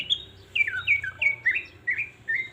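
A green leafbird (cucak hijau) gives a string of about eight bright, slurred chirping notes in an even rhythm, close and clear over a quiet background hum.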